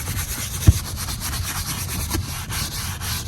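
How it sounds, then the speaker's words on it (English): A soft bristle brush scrubs foaming cleaner into a car's leather seat during interior cleaning, a steady close rubbing swish with one sharp knock early on, no talking. "This is a soft bristle brush."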